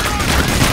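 Rapid gunfire from the shooter game Payday: The Heist rattles continuously and loudly through the whole short moment, a dense barrage with no break.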